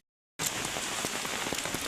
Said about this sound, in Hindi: देखुन वर्षा देखुन केते जोरे खाली पैन वर्षा हो